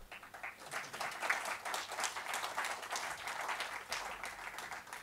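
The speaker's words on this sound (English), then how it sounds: "I think he needs an applause." Audience applause at a talk on India and Pakistan relations, a steady round of clapping from a sizeable crowd, moderately distant and fairly quiet, with no speech over it.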